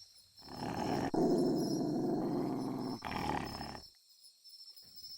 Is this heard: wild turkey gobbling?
no